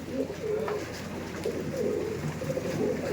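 An Andhra pigeon coos softly and steadily in low, rolling murmurs, close by, with faint background noise and no talking.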